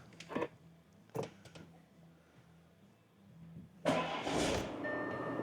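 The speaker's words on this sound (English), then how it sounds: "Should we go ahead and give the car a little bit of a start?" A few short clicks and thumps, then a car with a failed clutch cranks and catches, settling into a steady idle.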